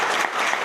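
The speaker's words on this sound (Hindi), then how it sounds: "जोरदार ताली बजाओ।" A brief burst of dense audience applause at a municipal council event, steady and fairly loud, with no talk over it.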